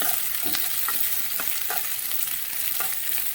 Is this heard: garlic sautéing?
yes